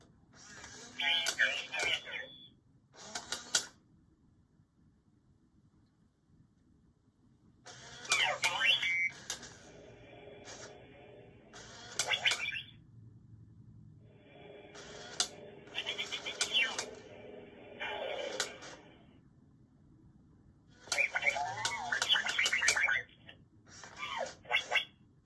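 The LO-LA 59 animatronic droid puts out bursts of electronic beeps, chirps and whirring movement sounds, loud and close, coming in clusters with short silent pauses in between.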